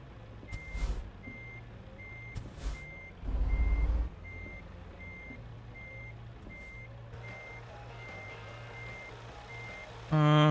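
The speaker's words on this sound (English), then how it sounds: "we're going to pull up and then just back into it" A truck in American Truck Simulator backing up, its reversing alarm beeping steadily at an even pace over a low idling engine, with a few hisses of air brakes and a loud burst near the end.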